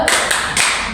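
Children in a school group-guidance session clap in a quick rhythmic cheer pattern, a loud, close burst of claps with no talking.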